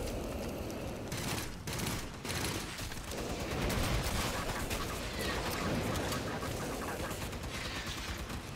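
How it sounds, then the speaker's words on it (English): Steady burst-rifle and weapon fire in the video game Aliens: Fireteam Elite, a dense, noisy barrage of shots running throughout, moderately loud, with sharp chirping game effects mixed in. "I have one more shot in my burst rifle."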